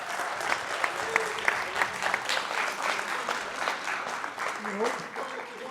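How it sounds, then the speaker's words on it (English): An audience at a high school coach's event breaks into sustained applause, dense rapid clapping from many hands close by with a voice briefly heard underneath. "Give these guys another big round of applause"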